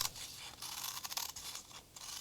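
Scissors snip a small stem out of recycled paper for a denim art journal, a few close crisp cuts with faint papery scraping, no talking.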